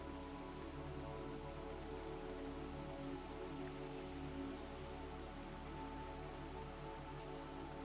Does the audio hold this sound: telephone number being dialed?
no